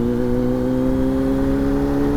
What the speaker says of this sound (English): the top end as the supercharger spools up more and more